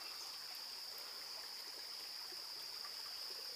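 Outdoor stream flowing steadily, a continuous broadband rush of water with a constant high hiss, even and unbroken, moderately faint with no talk.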